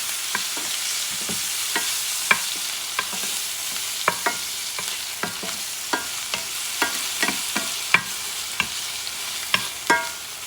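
Onions fry in a pan for spaghetti with ground beef, a steady broadband sizzle running throughout with repeated sharp scraping clicks from a utensil stirring them at irregular intervals, close and clear with no voices.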